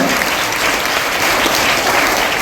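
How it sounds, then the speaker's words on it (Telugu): A live audience at a stage event clapping loudly in dense, continuous applause that fills the whole moment without letting up. "ఒకసారి గట్టిగా చప్పట్లు కొట్టండి"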